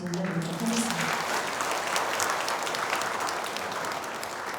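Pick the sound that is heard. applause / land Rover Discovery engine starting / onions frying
applause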